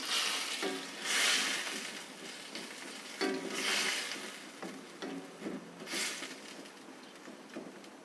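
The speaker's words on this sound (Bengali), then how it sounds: "এখানে আমি আরও চার ভাগের এক কাপ পানি দিয়ে দিচ্ছি" Water poured into a pan of sizzling chilli chicken sauce in a restaurant-style Chinese dish sets off surges of bubbling hiss that swell and fade several times, with light stirring clinks, fairly close and moderately loud.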